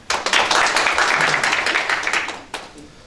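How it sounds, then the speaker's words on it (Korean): Audience clapping at a candidate's press conference in Yeoju-Yangpyeong, a burst of many hands held at steady strength for about two and a half seconds, then a few final sharp claps. "박수 한번 쳐주시죠."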